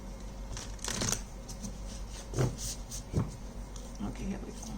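Moon oracle cards are shuffled in a few soft riffling bursts, faint and close, while a voice talks over them.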